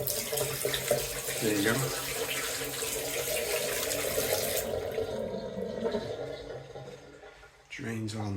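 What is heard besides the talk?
water draining from sink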